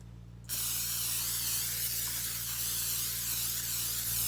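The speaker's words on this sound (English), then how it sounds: "We're going to start by spraying our little" Cooking spray hisses steadily into a 9x9 casserole dish, starting abruptly after a brief pause and continuing as one long, close spray over a low hum.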